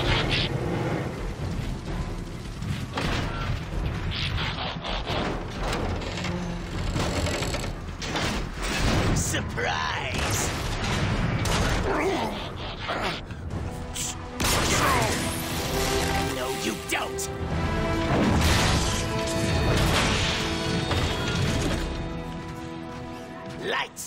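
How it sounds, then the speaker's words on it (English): Explosions and mechanical clanks ring out in Transformers: Fall of Cybertron during an ambush, a dense, continuous barrage of game blasts, crashes and metallic mechanisms mixed with music, with a player talking over it throughout. "Explosions everywhere."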